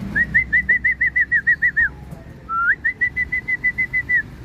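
Racing pigeons arrive at the loft after a 100 km training flight, with about twenty quick, evenly spaced whistle-like chirps in two runs, clear and close over a low background rumble.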